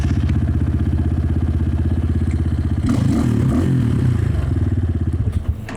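A cheap Amazon dirt bike engine with a newly set-up carburetor idles with a steady, close putter, then revs up into a louder, rougher roar for the last few seconds, with no voices.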